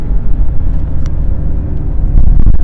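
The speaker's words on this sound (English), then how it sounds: "It downshifts pretty good, actually, for what it is and for the age." A 2004 BMW X3 E83 on the road, its engine rumbling steadily with tire and road noise close up, building briefly louder near the end as it downshifts.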